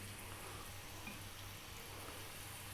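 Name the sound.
thin chicken frying in olive oil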